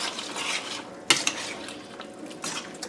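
Spoon stirring homemade pot pie filling, chicken or mushroom with flour mixture added, in a pot: scraping, swishing strokes with a sharp clink of utensil against metal midway and a few softer taps after, close and alone.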